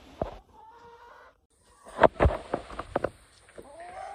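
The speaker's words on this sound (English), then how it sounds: "That's right, 2 broody chickens at once." Broody hens cluck and murmur close by in short bursts, a few sharper clucks in quick succession amid soft rustling, with quiet pauses between.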